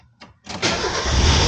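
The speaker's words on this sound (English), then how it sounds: "Turn on the car again" A Mazda Miata's engine cranks after a couple of short starter bursts, then catches into a loud, steady idle that continues to the end, close by with no talking.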